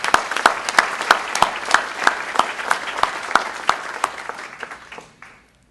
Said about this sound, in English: just a big round of our applause for our Community Services Department who puts these on.